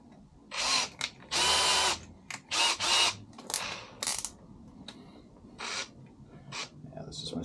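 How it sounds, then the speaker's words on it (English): A small power drill whirs in several short bursts of one to two seconds each, with quiet pauses and faint handling noises between. "This is my super low powered drill."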